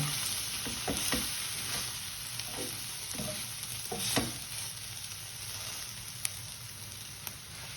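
A masala omelette keeps sizzling in a pan after the heat is switched off, giving a soft continuous hiss with occasional light pops and a few scraping taps, close and fairly quiet.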